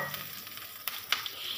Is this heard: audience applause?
no